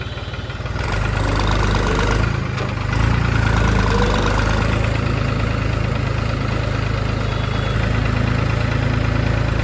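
Tractor engine idling loud and close, a steady low chugging throb that holds for nearly ten seconds, with a brief high whine near the start.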